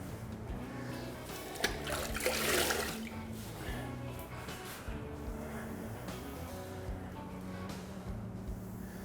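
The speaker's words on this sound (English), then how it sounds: "Submerge it, and you squeeze it out." A grout sponge plunged into a bucket of water and wrung out after tiling, producing sloshing, dripping and splashing water sounds, fairly close and soft, with a brief louder swirl early on.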